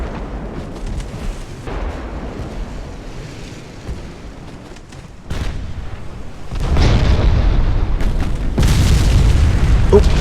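A flash fire erupts aboard a warship in the naval game Ultimate Admiral: Dreadnoughts, heard as a loud, sustained roaring blast that swells in about two-thirds of the way through, over an ongoing low rumble of battle.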